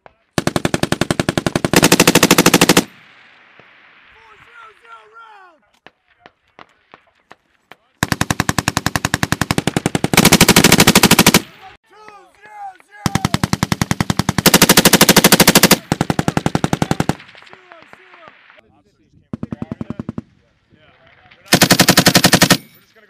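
An M240 machine gun firing on a USMC live-fire range in long, loud, rapid automatic bursts, separated by quiet gaps with faint voices and scattered single shots.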